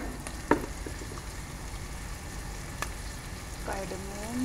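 Garlic and onion fry in a pan for a Filipino/Indian chicken curry, a soft, steady sizzle at low level with a couple of faint clinks of utensils and no talk.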